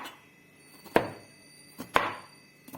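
A knife thinly slicing seeded bitter gourd on a board, two sharp, close chops about a second apart with fainter lighter cuts between them.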